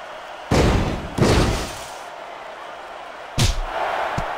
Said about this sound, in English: A tombstone pile driver.